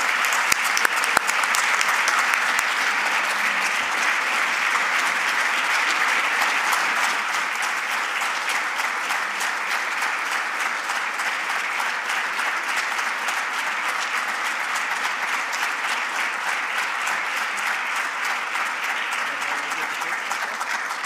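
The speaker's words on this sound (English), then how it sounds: "Please give me a big round of applause" A large audience at an introductory press conference for a Nebraska athletic director claps loudly and without a break for about twenty seconds, a dense, sustained wash of applause that eases only slightly toward the end.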